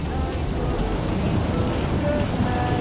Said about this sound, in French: c'est un bordel monstrueux avec de l'orage